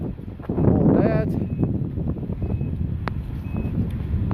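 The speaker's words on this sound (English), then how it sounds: "The other thing I wanted to show you on your remote was the power tailgate." Power tailgate on an Infiniti QX80 set off by its remote key: a short rising electronic chime sounds early on, followed by a steady low hum and rumble outdoors under wind noise.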